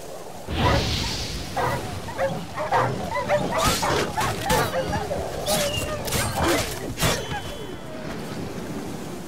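Wolves snarl, growl and bark in a fight in the video game The Witcher 3, with aggressive yelps and whooshing combat sounds over a loud, busy mix.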